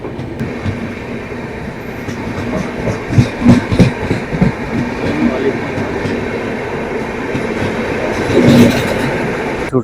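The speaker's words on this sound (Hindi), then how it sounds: "अब हमारी ट्रेन चल रही है 120 की 120 की रफ्तार से चल रही है हमारी ट्रेन" Delhi to Bikaner SF Express passenger train running on rails at speed, with a continuous loud rumble and rhythmic wheel clatter heard from inside a carriage, with a few faint voices mixed in.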